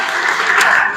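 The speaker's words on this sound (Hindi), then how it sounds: "एक बार ताली बजाओ जोरदार।" Loud, dense clapping from the audience at a quiz-show event modelled on Kaun Banega Crorepati, a full burst of applause held for the whole second.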